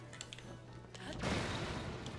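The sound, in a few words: explosion in Zelda Tears of the Kingdom video game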